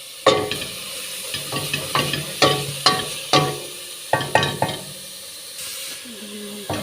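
Carrots, potatoes and other vegetables for a soup are stirred in hot olive oil in a pot, with a series of sharp scraping stirs over a low sizzle, close and loud, with no speech over the stirring.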